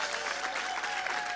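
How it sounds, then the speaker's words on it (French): Warm applause from a church audience, steady dense clapping filling the whole moment without pause, no voices on top. "On peut l'applaudir chaleureusement."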